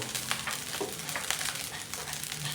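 An omelette fries in a pan, a steady crackling sizzle with small irregular pops and spatters running throughout at close range.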